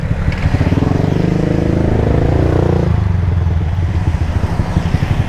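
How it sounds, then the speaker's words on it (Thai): A Yamaha M-Slaz motorcycle engine revs hard at close range in Bangkok traffic beside a pickup truck, a loud sustained throttle blip with pulsing harmonics that drops back to a rough, lumpy idle. "บางทีเราเบิ้ลใส่รถ"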